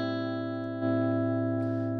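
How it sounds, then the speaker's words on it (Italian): A sustained electric guitar note rings through a Fractal preset with an optical compressor, thick and even, swelling slightly partway through, with no talking. "a me piace moltissimo metterci questo compressore che è l'optical tremolo"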